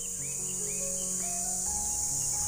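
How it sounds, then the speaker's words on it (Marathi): Crickets chirp at night in a dense, constant high trill, with faint scattered bird-like calls and low background noise beneath, no voices. "रातकिड्यांचा इतका आवाज आहे ना, हल्ली येतो ना."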